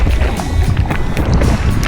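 Strong wind at Culburra Beach buffets the microphone with a loud, constant low rumble and gusty roar, joined by faint scattered rustling.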